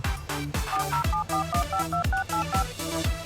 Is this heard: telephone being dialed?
yes